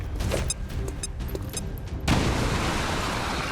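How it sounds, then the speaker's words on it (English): A grenade detonates in XCOM 2 gameplay, first scattered game-effect clicks and small pops, then a sudden loud broadband blast that leaves a sustained rumbling roar of debris through the rest. "Grenade out!"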